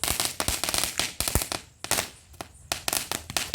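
Diwali firecrackers bursting in rapid irregular bangs and crackles, loud and close, with a short lull midway before another quick cluster of pops.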